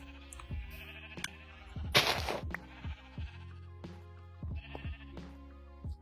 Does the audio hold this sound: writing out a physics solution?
no